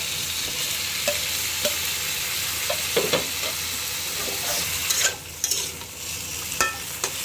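Malabar spinach stalks and potatoes frying in a pan for a prawn curry, a loud continuous sizzle with scattered scraping knocks of a spatula stirring and a brief dip in the hiss partway through, no voices.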